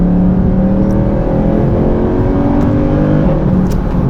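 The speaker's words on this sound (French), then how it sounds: "Sous le capot, on a un V8 atmosphérique de 6 litres 2" Mercedes C63 Coupé Edition 507 with a naturally aspirated 6.2 L V8, a loud, close, deep engine drone held steady with slight pitch shifts as it cruises, no voices.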